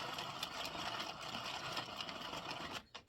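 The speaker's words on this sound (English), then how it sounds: "You're going to crank your machine around" An Addi knitting machine is cranked by hand, giving a steady, close mechanical whirring rattle that runs continuously before stopping abruptly near the end.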